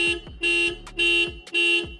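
A Tata Nexon EV (2023) car horn, triggered by key fob, blares in three sustained, evenly spaced honks, loud and close, with short gaps between them.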